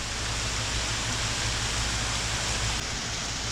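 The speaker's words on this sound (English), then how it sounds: "it's raining and the sun's trying to poke out all at the same time" Heavy rain coming down hard outside near a front porch, a dense steady hiss of downpour with no breaks, close and loud for the whole stretch.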